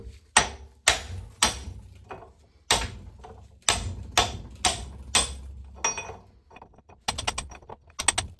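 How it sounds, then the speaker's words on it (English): Hammer striking a wrench to break loose a nut on an NV4500 transmission during a rebuild, a series of sharp metallic knocks at irregular intervals, loud and close, ending in a quicker flurry of taps. "we're just gonna use a hammer"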